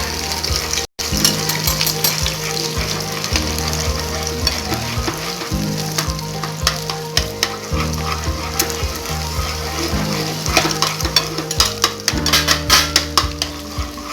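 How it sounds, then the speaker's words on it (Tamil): Eggs being scrambled in a frying pan for Chinese restaurant-style chicken noodles sizzle loudly and steadily, with repeated scraping and clinking of a utensil against the pan throughout. "ஸோ இந்த எக்கு நம்ம நல்லா ஸ்க்ராம்பிள் பண்ண போகிறோம்."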